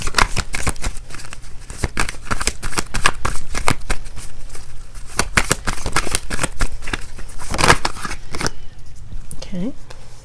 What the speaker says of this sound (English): I shuffled these cards, okay?